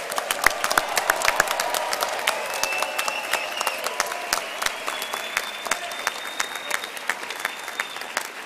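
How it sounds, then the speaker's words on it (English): A seated audience at a university doctoral graduation ceremony applauds. Dense, steady clapping with sharp individual claps standing out runs throughout at a fairly close, lively level. "Please give our doctoral graduates one more round of applause."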